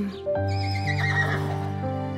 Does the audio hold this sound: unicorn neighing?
yes